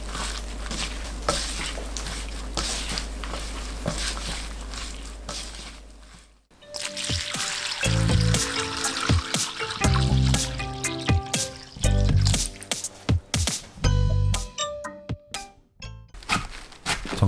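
Shredded cabbage being tossed by hand with minced garlic, sesame oil, anchovy fish sauce, fine salt, chili and ground sesame, heard as close, wet squishing and rustling mixed over a low steady hum, with no one talking.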